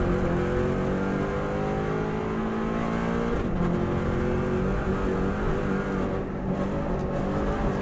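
A Subaru WRX STI rally car powers out of a corner on the Isle of Man TT mountain course, its engine roaring loud and close as it accelerates hard through the gears, with a brief dip in pitch at a shift.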